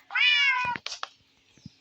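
A house cat gives one long, clear meow up close, followed by a couple of short, softer chirping mews and a faint low sound.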